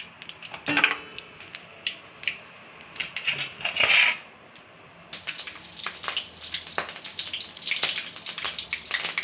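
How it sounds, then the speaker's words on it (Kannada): Mustard seeds and chana dal crackle and pop in hot oil with scattered sharp bursts over a steady sizzle, close and moderately loud. "ಎಣ್ಣೆ ಬಿಟ್ಟಿದ್ದೀನಿ ಇದಕ್ಕೆ ಸಾಸಿವೆನೂ ಕಡಲೆಬೇಳೆನೂ ಹಾಕ್ತಾಯಿದ್ದೀನಿ"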